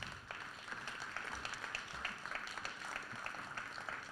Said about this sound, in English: let's give one more round of applause for our panel here